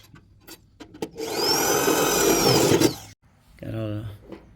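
A power drill whirs loudly for a couple of seconds as it bores into wood for a wagon build, then stops, followed by someone speaking.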